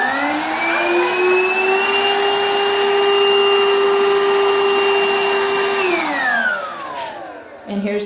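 A Hoover BH52210PC Cruise 22V cordless stick vacuum runs with a steady, fairly loud high whine that holds level, then spins down in pitch and cuts out near the end.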